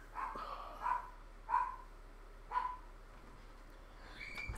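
A dog barks four times at a steady, evenly spaced pace. The barks sound somewhat muffled and distant, as if from another room, over a quiet background.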